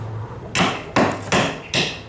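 Pallet nails are pulled using pliers and a hammer: four sharp, loud hammer strikes land close by at a steady pace, each with a short ringing decay.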